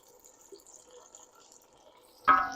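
Home-canned tomato puree is poured from a jar into a pot of chicken curry soup, a short close wet glug and splash that comes in suddenly after a near-silent stretch.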